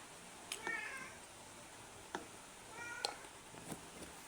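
A cat meows twice nearby, a drawn-out mew and then a shorter one a couple of seconds later, in a quiet room with light clicks.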